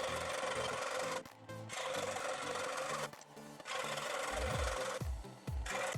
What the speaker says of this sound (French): Il ne reste plus qu'à découper tout ça à la scie.